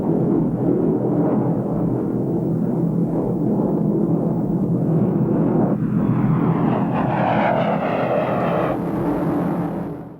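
An F-100 Super Sabre jet roars past at an air show, its loud, steady engine rumble swelling and shifting pitch as it goes by, with no talking.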